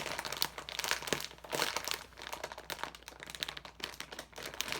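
Plastic packaging around a squishy toy crinkling and rustling in bursts, close and crisp, with fast irregular crackles and no talk.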